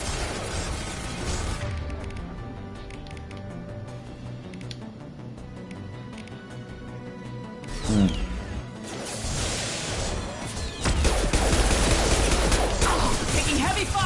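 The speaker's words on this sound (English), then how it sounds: "Taking heavy fire!" Heavy gunfire in Mass Effect 2 crackles on as a sustained barrage, with crashes and a boom breaking through and a louder, denser stretch toward the end, under brief shouting.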